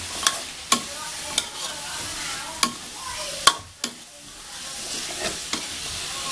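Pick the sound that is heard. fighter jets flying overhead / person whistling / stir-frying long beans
stir-frying long beans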